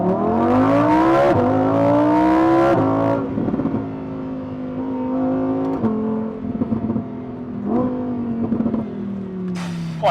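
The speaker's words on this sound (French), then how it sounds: "là j'ai juste baissé la vitre arrière pour entendre un petit peu le V10 atmosphérique 640 chevaux" A Lamborghini Huracan Evo with a naturally aspirated 640-horsepower V10 drives along, its engine droning loudly from inside the cabin with the rear window down, revving and dropping through gear changes with rising and falling pitch.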